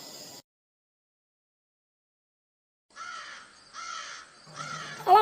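A crow caws several times in a row, close and fairly loud, after a brief silence, with no one talking.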